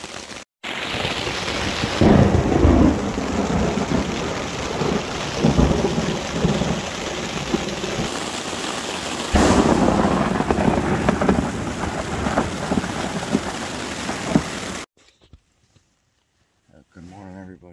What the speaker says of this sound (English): Hands down, the worst storm I've ever been caught in.